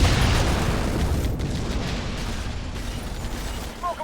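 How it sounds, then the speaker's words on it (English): A grenade explodes in the Halo Wars video game, a deep booming blast with a rumbling tail that slowly decays, loud and close, with a faint tone near the end. "Grenade out."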